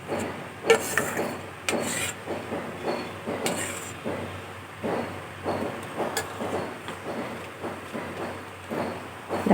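Thick palm cake batter in an oiled bowl lined with white paper is tapped and knocked to settle it, giving a steady run of soft, dull thumps and rubbing scrapes close by.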